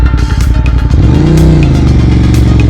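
A 2023 Indian Darkhorse Pursuit motorcycle engine rumbles loud and close, with a throaty pulse that swells briefly as the revs rise and then settles.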